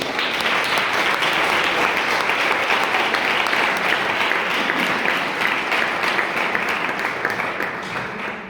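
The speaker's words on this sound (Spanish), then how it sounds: "le damos un aplauso" A crowd of young people at a national Divine Mercy gathering applauds in a dense, loud, continuous wash of clapping that holds steady for several seconds before easing slightly at the end.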